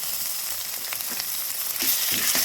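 Onion, ginger and garlic paste sizzling in hot oil for a fish curry, a steady loud hiss with occasional crackles and spatters that swell toward the end, with no talking.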